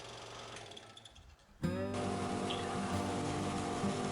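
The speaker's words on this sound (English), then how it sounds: "Back to the bandsaw, just finishing up the shaping of the handle." Bandsaw cutting and shaping a wooden handle for a Christmas tool tote, the blade starting with a loud onset partway through and running steadily with a continuous whine and rumble after a quieter stretch of shop noise.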